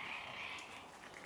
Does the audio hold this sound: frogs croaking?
yes